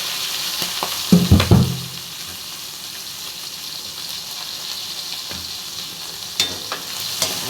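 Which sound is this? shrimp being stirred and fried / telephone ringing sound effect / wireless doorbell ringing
shrimp being stirred and fried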